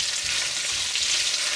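Hot pot ingredients frying in oil, heard up close as an even, loud, unbroken sizzle for a brief moment, alone.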